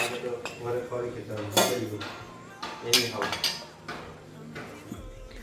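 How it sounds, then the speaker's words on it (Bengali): Cups being tidied and set down on a kitchen counter, with repeated clinks of crockery and cutlery and a few sharper knocks during a hot day's cooking. Voices talk faintly in the background. "এই যে কাপগুলো একটু গুছিয়ে দিই একটু"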